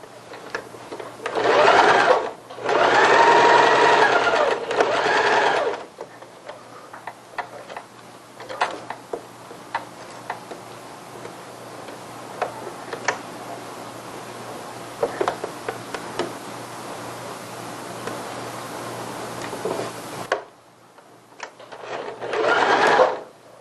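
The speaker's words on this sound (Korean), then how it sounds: "1cm 시접으로 박음질 하고요" A domestic sewing machine sews a 1 cm seam on a child's strappy dress: loud bursts of rapid stitching at the start and end, with quieter ticks and handling sounds of fabric in between.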